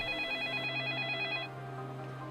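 A telephone in a kitchen rings in a short action crime film, a bright electronic tone for about a second and a half over a low steady hum.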